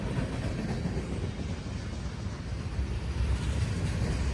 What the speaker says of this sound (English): there's a westbound train!